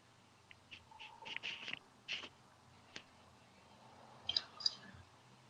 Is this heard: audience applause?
no